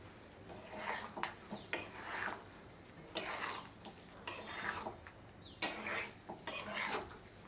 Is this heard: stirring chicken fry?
yes